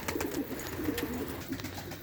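Soft, low cooing of a pair of pigeons, a male and a female, in a coop, repeated in short murmured phrases over faint steady background noise.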